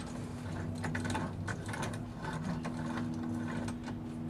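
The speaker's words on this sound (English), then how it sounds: "I'm using a 3/8 ratchet" A 3/8 ratchet tightening a cheap vise, repeated small clicking pawl ticks over a steady low mechanical hum, faint and continuous throughout.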